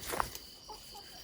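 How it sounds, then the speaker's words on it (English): Half-feral chickens roam a forest, giving a brief close cluck near the start followed by a few faint softer clucks against quiet woodland ambience. "Half feral chickens running through the forest."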